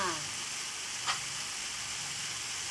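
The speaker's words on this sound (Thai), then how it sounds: "เวลาผัดเส้นเราต้องใช้ตะเกียบช่วยนะ" Thin rice noodles for phat mi thang taek stir-fried with chopsticks in a wok, giving a steady broadband sizzle with a brief scrape or clack near the middle.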